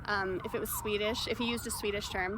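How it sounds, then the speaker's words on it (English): Emergency sirens wailing outside in a repeating up-and-down cycle, fairly loud, heard beneath someone talking. "sorry for the sirens"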